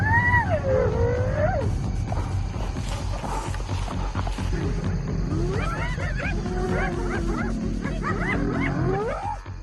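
Hyenas calling at a lion hunt, drawn in by the commotion: loud, close whooping and rising, wavering cries, several voices overlapping in bursts over a low rumbling background for nearly ten seconds.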